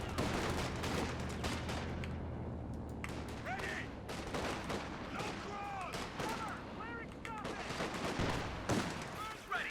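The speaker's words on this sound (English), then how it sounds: "Stuart opening fire against the Panzerfusilier." A Stuart tank fires on German Panzerfusiliers in a Company of Heroes 2v2 match on Eindhoven Country, with repeated gunshots and artillery-like booms in a dense battle mix, under running speech.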